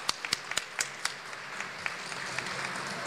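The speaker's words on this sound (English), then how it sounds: "Let's give her a round of applause." Brief scattered applause for Senator Donzella James at a Get Your Hands Green Day event under the Georgia capitol gold dome: a handful of sharp separate claps, then a thinner patter that fades into room murmur.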